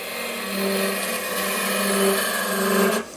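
A wood lathe turns a goblet from a branch while a tool cuts end grain, giving a steady whirring hum with grinding tones that swell and ebb, then cut off abruptly near the end.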